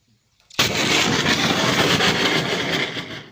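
Lithium battery bursting into a loud, sudden roaring blast of fizzing, crackling venting after a near-silent moment, sustained at full strength for nearly three seconds before tailing off.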